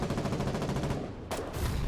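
Rapid bursts of gunfire aimed at infantry in the war game Foxhole, a dense, steady crackle of repeated shots with a brief louder volley near the end, continuous and fairly close.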